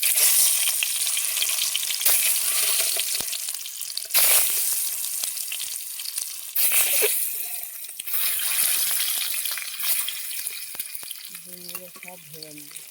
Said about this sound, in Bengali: ডিমগুলো সব ভেজে নেব